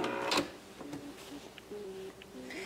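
A sewing machine stitching a Christmas stocking, short whirring runs of the motor with brief pauses between them, a few clicks and taps mixed in, close and moderately quiet.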